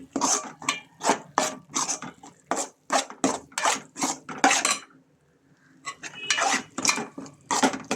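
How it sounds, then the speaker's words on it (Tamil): A metal spoon scraping and knocking against a pan as a powdered mix of cumin, turmeric and pepper is stirred, crisp rhythmic clinks in quick strokes, a short pause midway, then more stirring. "எல்லாத்தையும் சேர்த்து ஒரு கலவையாக கிண்டி"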